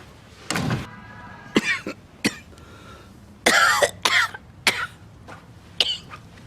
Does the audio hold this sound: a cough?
yes